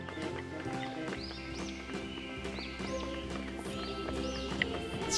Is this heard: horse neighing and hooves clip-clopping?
yes